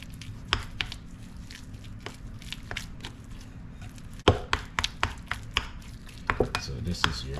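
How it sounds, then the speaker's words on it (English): Garlic butter paste being mixed with fresh parsley in a bowl, a series of soft irregular taps, scrapes and squishy clicks from a utensil, close and fairly quiet with no talking. "2 tablespoons of fresh parsley, or you can use the dried parsley. And you just give this a mix."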